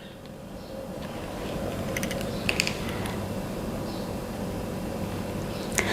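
A sewing machine runs steadily close by while stitching a pocket onto a pinafore dress, giving a continuous mechanical whir with a few faint clicks and creaks and no talking.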